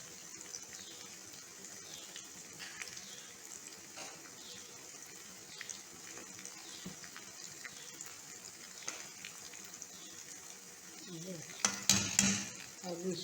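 A spoon scrapes and clinks in a pan while keema bhindi is stirred, soft repeated scraping and light metal taps throughout, growing busier and louder near the end.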